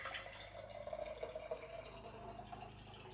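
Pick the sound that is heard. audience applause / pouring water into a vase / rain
pouring water into a vase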